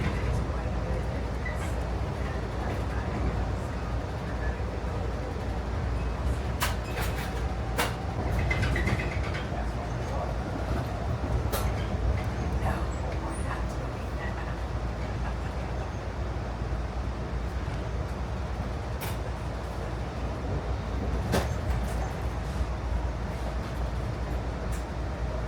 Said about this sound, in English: Watch the California Zephyr go by every day.